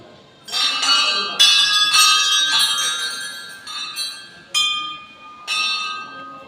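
Small metal bell rung repeatedly in uneven strikes, bright ringing tones that overlap and decay, with pauses between groups of rings, close and fairly loud.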